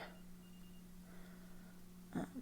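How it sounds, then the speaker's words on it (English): A work phone in a room beeps faintly, with a steady low electronic tone running throughout and a brief louder burst near the end, all quiet and somewhat distant. "Sorry if you can hear that beeping. It's my work phone"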